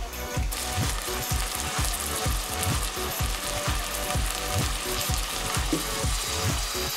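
Lentils sautéing in melted butter with a little oil and onion ends in a pan, a steady broadband sizzle running throughout alongside a regular, rapid low clatter like stirring or scraping, no talk.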